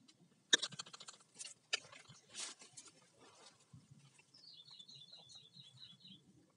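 Faint rustling and handling noise give way to a bird's rapid series of about a dozen high, evenly spaced chirps, fairly soft and close.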